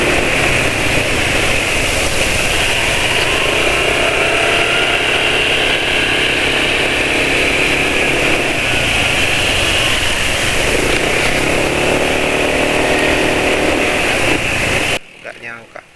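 Motorcycle engine running steadily through an engine oil test, a continuous droning hum with a high whine held for about fifteen seconds before cutting off abruptly near the end.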